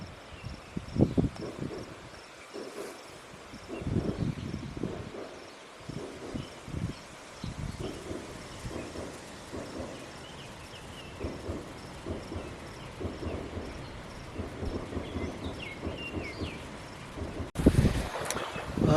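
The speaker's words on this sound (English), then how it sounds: "the wind's a little annoying" Wind gusts buffet the microphone at a lakeside state park by a boat ramp, with low rumbling thumps, rustling and faint insect chirping. The gusts rise and fall in irregular bursts over the whole stretch.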